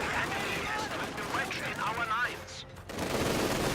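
Machine gun fire rattles in dense bursts amid other gunfire during a Company of Heroes match, moderately loud in the mix, while a commentator talks over the battle.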